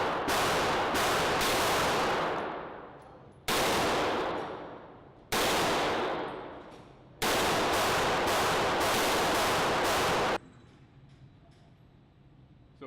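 A weapon fires at a shooting range in loud, close bursts of automatic gunfire, four long strings each cut off abruptly and trailing into reverberant decay, then quieter ambient noise.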